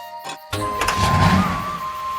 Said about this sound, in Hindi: हो गई तुम्हारी गाड़ी स्टार्ट